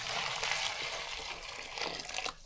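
Boiling water being poured into a pot of sorrel, a steady splashing, gushing pour that swells and tapers over a couple of seconds, close and moderately quiet with no talking.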